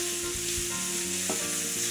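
Aromatics and pressed garlic fry in a pan for a brothy lemony lentil soup, giving a steady close sizzle with a few scraping stirs, no talking.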